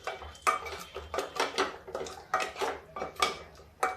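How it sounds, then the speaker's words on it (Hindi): A spoon knocks and scrapes against a metal cooking pot while a curd mixture for Rajasthani gatte curry is stirred, making a run of close, rhythmic clinks about twice a second with no talking. "इसको हम चलाते रहेंगे।"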